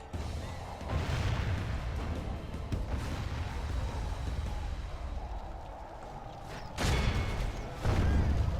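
Enemy siege artillery firing during a castle siege battle in Medieval 2: Total War, heavy booming impacts and crashes layered over a continuous din of battle, with louder blasts near the end.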